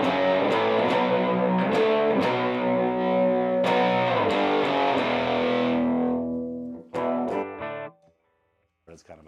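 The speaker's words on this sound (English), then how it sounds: "he uses it like that just to drive the front end of the amp. It'll make distortion on its own" Electric guitar played through an amp pushed into distortion by a clean boost pedal, loud sustained chords and picked notes ringing for several seconds before cutting off, followed by a few brief strums and silence.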